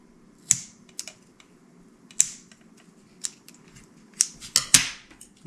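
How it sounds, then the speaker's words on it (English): Scissors cut yarn light seals while a Canon AE-1 Program SLR camera is being refitted, giving sharp, close snips in an irregular series of about eight, some in quick pairs near the end, over quiet background. "Take your scissors. These are not high-grade scissors, by the way. Cut them off as snug as you can."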